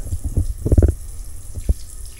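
In a condo sink, water splashes and gurgles in short bursts as it runs and drains slowly, close and fairly loud, with no speech.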